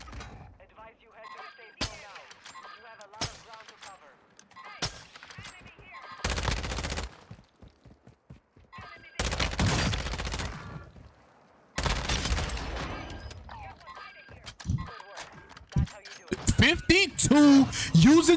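An SPX sniper rifle in Warzone 2 fires in sharp, loud single cracks with pauses between them, mixed with other gunfire bursts and game noise while a player talks excitedly throughout.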